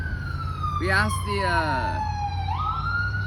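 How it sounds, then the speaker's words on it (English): A wailing ambulance siren sweeps up and down nearby over steady traffic rumble, while a voice speaks briefly beneath it. "Whenever we hear sirens like that, oh, it's an ambulance."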